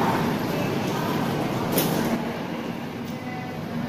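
Steady rumbling hum inside a moving KRL commuter train from Bekasi to the airport, constant broadband noise with faint mechanical rattles, no voices prominent.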